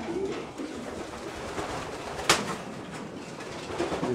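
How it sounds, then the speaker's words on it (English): Racing pigeons coo softly in a loft in Ireland, a low, steady murmur of calls with one brief sharp click partway through and no talk over it. "Super quality, super pigeons."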